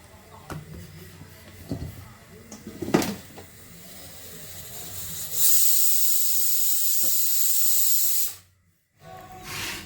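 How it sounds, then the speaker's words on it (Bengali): A paratha frying in a hot pan gives off a loud, steady hiss that sets in midway and runs for a few seconds before cutting off. Before it come scattered kitchen clatters and soft talk. "এই যে পরোটা ভেজে নিচ্ছি।"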